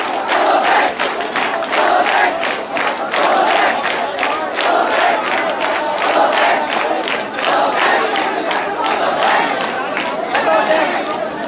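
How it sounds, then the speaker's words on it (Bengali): Student protesters chant resignation slogans in front of the Secretariat, a large crowd shouting in steady rhythmic bursts that repeat loudly and closely for the whole stretch, with no pause in the chanting. "এই মুহূর্তে সচিবালয়ের সামনে পদত্যাগ স্লোগান উঠেছে।"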